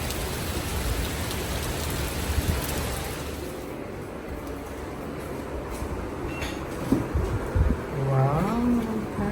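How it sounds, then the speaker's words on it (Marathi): Heavy rain falls as a dense, constant roar, loud and close, with an electronic-sounding tone rising near the end and no talk. "एकदम जोरात पाऊस."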